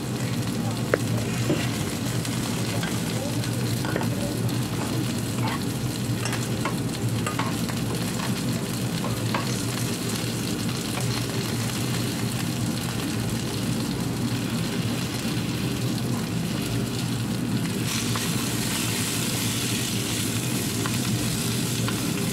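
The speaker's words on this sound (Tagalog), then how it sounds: "Konting halo at ready na ang ating green beans." Green beans stirred as they fry in a pan, a side dish for steak, give a steady, close sizzle with soft scraping of the stirring throughout, with no talking.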